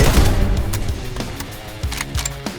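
Gunfire in the Roblox game Hypershot, a series of loud close shots in quick succession with sharp cracks and booming low thuds, spaced irregularly.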